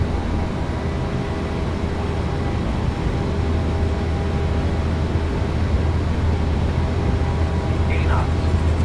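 Jet engines of a PMDG 737-800 at takeoff power in MSFS2024 give a steady, loud, droning roar with a low hum. It holds constant the whole time with no breaks, and faint voices sit under the noise.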